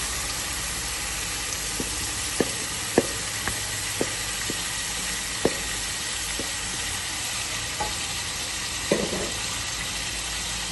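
Marinated mutton hits a hot karahi with a continuous loud hiss and sizzle, dotted with small sporadic pops and spits.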